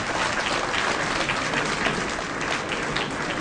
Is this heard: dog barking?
no